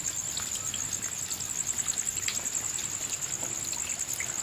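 Heavy night rain leaves water trickling and running steadily, with a continuous high insect drone above the wet outdoor wash.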